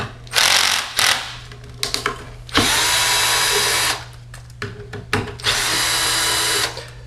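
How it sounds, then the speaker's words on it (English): A power driver loosening screws on a Martin Yale 7000E unit, with several loud whirring bursts of varying length separated by short pauses and clicks, close up and with no talk. "I am going to use our power driver."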